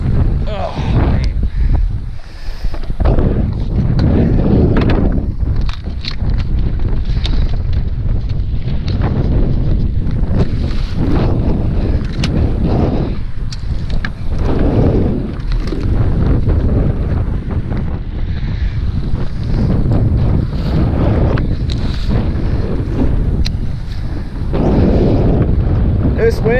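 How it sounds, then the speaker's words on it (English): Strong wind buffeting a lake during spring bass fishing, a steady loud roar of wind noise on the microphone for the whole stretch, with someone speaking now and then beneath it. "This wind is awful."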